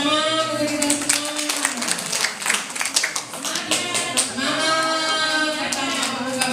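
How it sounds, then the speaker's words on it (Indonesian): Group clapping at a CCQ final competition, with an audience and officials applauding together; steady dense claps with voices and chatter mixed in throughout, dipping briefly midway then swelling again. "tepuk tangan untuk kita semua."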